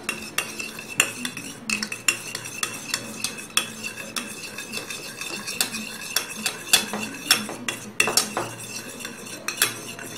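A spoon whisks sour yogurt in a bowl, its quick metallic clinks and scrapes against the sides repeating in an irregular rhythm, close and fairly loud.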